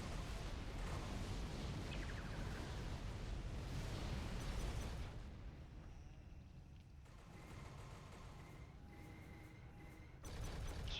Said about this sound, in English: Shoot some missiles out.